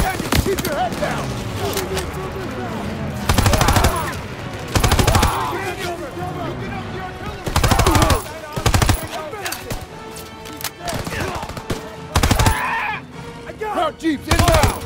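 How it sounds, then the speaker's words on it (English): Repeated bursts of gunfire from a Call of Duty WW2 battle, loud broadband bangs and automatic fire recurring every second or two, with shouted voices and battlefield noise between volleys. "Cover fire from the left!"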